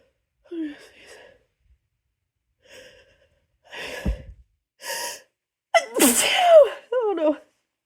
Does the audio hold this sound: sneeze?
yes